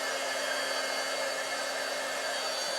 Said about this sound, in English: Once my heat gun gets hot, it doesn't take very long at all